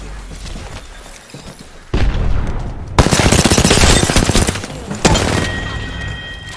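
Apex Legends gunfire, bursts of rapid automatic fire with sharp loud cracks, a short lull then a dense sustained volley and further shots, some talk faint underneath.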